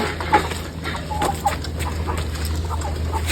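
Chickens cluck softly over a steady low hum and farmyard background, with short scattered calls throughout.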